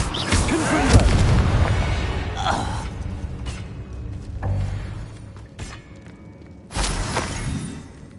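A Confringo blasting curse fires in Hogwarts Legacy and lands in a series of booming, crackling explosions. A final loud burst near the end rises over the game's background effects.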